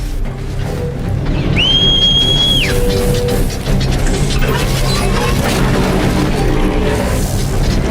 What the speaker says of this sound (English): the whistling you're hearing was Guy calling for his mount to come